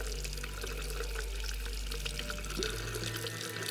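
Water runs steadily from a tap on newly fitted shed plumbing, a constant close rushing stream that fills the whole stretch without talk.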